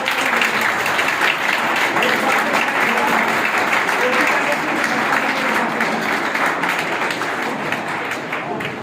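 Classroom audience of students claps loudly and steadily for nearly nine seconds, a dense continuous patter with some voices mixed in, fading slightly at the end.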